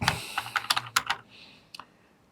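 Quick bursts of keystrokes on a computer keyboard while C code is typed, a rapid uneven cluster of clicks that thins out into a couple of isolated taps near the end, close and fairly quiet with no talking.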